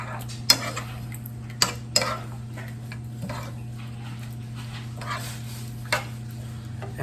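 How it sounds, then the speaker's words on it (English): Heavy cream being stirred into shrimp scampi in a kitchen pan: a few sharp utensil clinks and scrapes against the pan over a steady low hum, spaced irregularly, with no voices. "And we're just going to take and stir that in."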